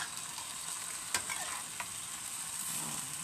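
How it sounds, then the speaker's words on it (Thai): Ginger and mushrooms stir-fry in a pan with a steady, soft sizzle throughout, broken by a couple of brief scrapes of a utensil, faint and continuous with no talking. "นี่นะคะผัดให้สุกๆไปนะคะ ผัดนะคะจะมีนี่ค่ะมีขิงนะคะมีเห็ดนะ"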